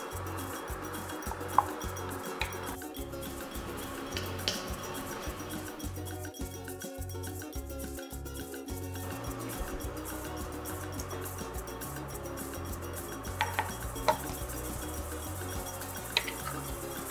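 Meat with roucou being stirred in a pot for an oxtail dish, with repeated clinks and scrapes of a utensil against the pot, fairly close and steady, with no talking.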